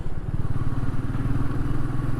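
Royal Enfield Meteor 350 single-cylinder motorcycle cruising in fifth gear, a steady low thumping engine drone with a rapid pulsing beat, close and continuous throughout.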